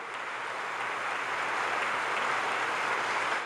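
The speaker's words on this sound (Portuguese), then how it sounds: "Palmas para o Senhor" A church congregation in Sumaré claps together in worship, a dense, steady wash of applause that holds at even loudness throughout without any voices.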